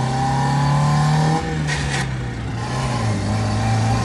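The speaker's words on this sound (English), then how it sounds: "Foot to the floor." A cheap Mazda Miata race car accelerates hard at full throttle in first gear, its engine droning loudly with a rising pitch that dips briefly and then climbs again.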